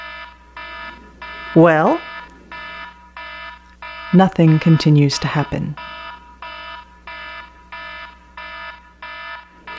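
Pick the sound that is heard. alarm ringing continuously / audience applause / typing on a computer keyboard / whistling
alarm ringing continuously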